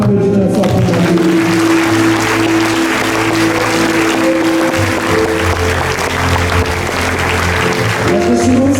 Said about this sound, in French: On applaudit très fort pour la vie.